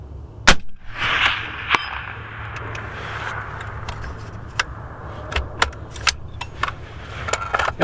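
Distant, sharp cracks of a Palmetto State Armory Gen 2 .308 AR-10 rifle with a 16-inch barrel, shooting at long range. The shots come scattered and fairly faint over outdoor background noise, and one louder report stands out near the start.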